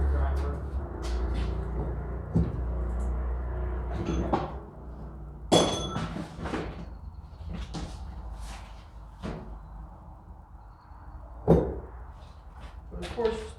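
A chisel struck by a hammer against the outer rim of a Ford 7610 tractor gives a series of sharp metallic knocks at irregular intervals, several of them loud, over a low background hum.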